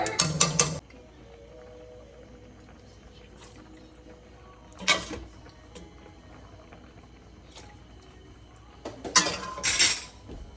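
Metal spoon clinks and scrapes against a pot while stirring Italian Sunday sauce, in three short bursts separated by quiet stretches, the last one longer and rattling.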